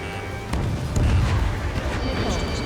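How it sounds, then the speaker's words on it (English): Missile launches and booming blasts in the combat flight game Ace Combat 7, a dense roar of explosions building to a louder burst midway and holding steady over continuous engine rumble. "Missile fire, evading."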